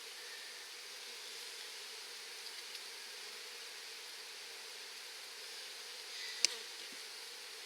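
Steady, soft droning buzz of many honey bees inside a hive, continuous and even throughout, with a brief sharp click near the end.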